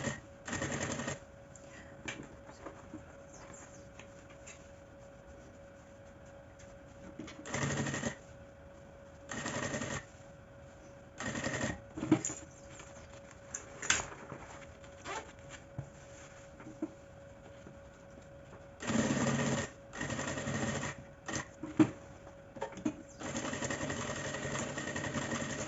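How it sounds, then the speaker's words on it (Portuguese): A sewing machine stitches down the other side of a small baguette handbag in bursts of steady mechanical whirring, stopping and starting several times with quiet pauses between runs. "Agora, costura o outro lado, até lá embaixo."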